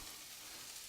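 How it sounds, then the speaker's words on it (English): Steak sizzles while cooking in a pan, a soft, steady, even hiss that stays faint and constant throughout, with no talking. "That is sizzling steak."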